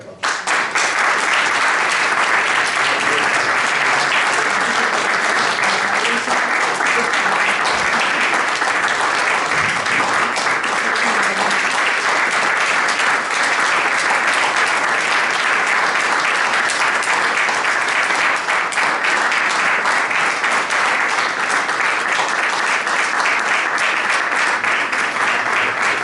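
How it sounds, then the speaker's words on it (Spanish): Sustained, loud audience applause at a book presentation in Madrid honoring Carlo Emanuele Ruspoli, a thick, even roar of many hands clapping that continues steadily for over twenty-five seconds without talk. "Un fuerte aplauso."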